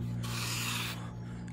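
Rough stone being rubbed at an angle during stone wall building, a single close, gritty scraping stroke lasting under a second against quiet background.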